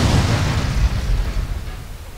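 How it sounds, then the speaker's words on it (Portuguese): A loud, rumbling blast roars up in GTA San Andreas, a big explosion with a heavy low boom that rolls on and slowly fades over about two seconds, with no talk. "Tão forte que é as explosões."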